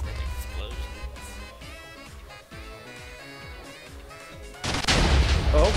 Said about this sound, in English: It's just explosions and explosions.